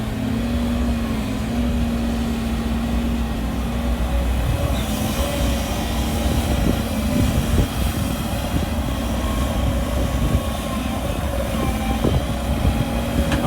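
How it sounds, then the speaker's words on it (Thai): Sumitomo SH130-6 excavator with an Isuzu 4JJ1X four-cylinder common-rail turbo diesel, intercooled and water-cooled, runs steadily with a loud, continuous close-up engine rumble and no break throughout. "ตัวนี้ใช้เครื่อง 4 สูบครับ 4 สูบ 4JJ 1X นะ 4สูบคอมมอนเรลเทอร์โบ"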